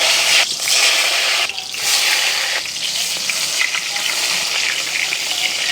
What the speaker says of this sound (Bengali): এই রকম করে বেগুনগুলোকে লাল লাল করে ভেজে নেব।